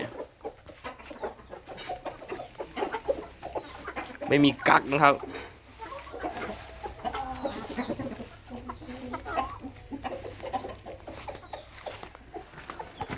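Chickens cluck and squawk in a busy yard, with a louder burst of fowl calls midway, while someone talks over them.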